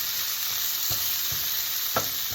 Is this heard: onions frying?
yes